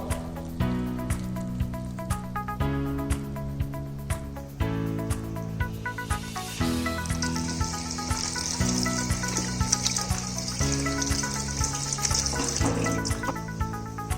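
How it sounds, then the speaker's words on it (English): Blanched spinach being strained from its water in a kitchen, with steady splashing and pouring water alongside clinks and knocks of utensils over the whole stretch, the running water louder and hissier in the later half. "Now we will strain the spinach."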